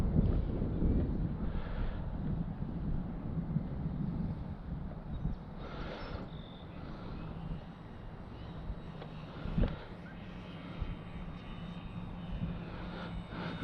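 V-22 Osprey tiltrotor engines idling at low throttle, a steady low rumble with wind buffeting and occasional faint whines and bumps, moderately distant and continuous.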